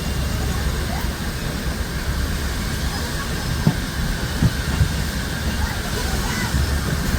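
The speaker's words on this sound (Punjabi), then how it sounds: "ਟ੍ਰੇਨ ਜੱਟੀ ਸਪੀਡ ਆ ਵੇਖੋ ਕਿਵੇਂ ਜਾਂਦੀ ਉੜਦੀ ਜਾ ਰਹੀ ਹੈ" Steady rumbling roar of a train running fast between Ambala Cantt and Patiala, wheels clattering on rails with occasional squeals, continuous and close throughout.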